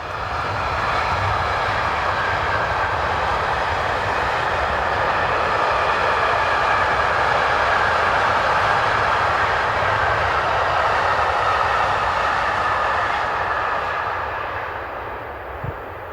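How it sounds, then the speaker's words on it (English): A Class 1116 locomotive hauls a freight train loaded with wood chippings, a sustained broad roar that swells as it passes close by and then fades slightly toward the end. "this trainload of wood chippings is hauled by an unidentified Class"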